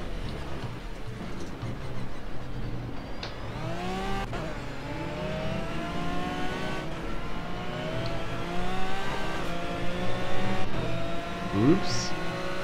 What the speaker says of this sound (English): Car goes around the corners more comfortable now.